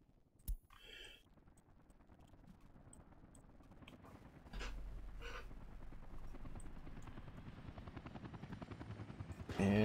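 Helicopters in the city-building game Workers & Resources: Soviet Republic, heard as a low, steady rotor chop under scattered interface clicks, growing louder and denser partway through.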